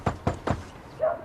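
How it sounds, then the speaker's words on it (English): Three quick, firm knocks on a door in an even rhythm, moderately close and fairly faint, followed by a short creak-like squeak. "Knock."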